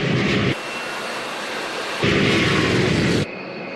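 Roaring jet noise from a B-1 bomber's General Electric turbofan engines, a loud, dense broadband rush that surges in two powerful bursts over a steady background roar.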